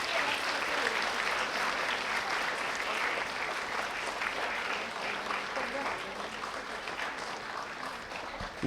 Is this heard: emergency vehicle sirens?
no